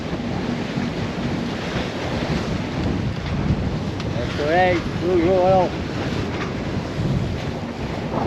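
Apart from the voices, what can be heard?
wind at sea on a sailboat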